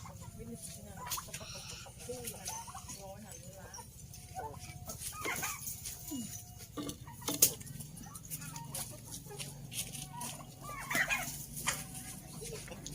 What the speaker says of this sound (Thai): ไก่หลายพี่น้องเอ้ย